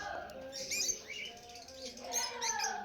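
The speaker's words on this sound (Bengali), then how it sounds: "এখানে দেখুন কত সুন্দর সুন্দর লাভবার্ড পাখি আছে।" Several rosy-faced and yellow lovebirds chirp nearby in an aviary, with quick bursts of sharp high tweets and squeaks in two clusters, and a little softer twittering between them.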